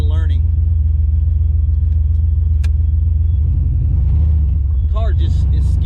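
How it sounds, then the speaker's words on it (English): A car engine idles unevenly with a misfire, a loud steady low rumble with irregular skips throughout, close to the microphone, with brief speech-like bursts at the start and end. "Car just is skipping."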